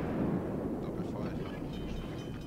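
Naval gunfire in World of Warships, with heavy shells striking an enemy ship during a battle, heard as a dense, continuous rumble of booming impacts and explosions with voices underneath.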